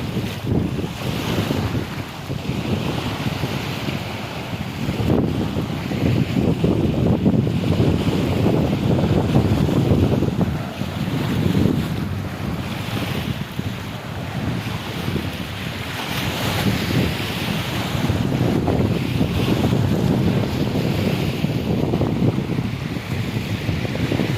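Strong wind from a typhoon gusting against the microphone over a constant rush of ocean surf, swelling and easing in waves throughout.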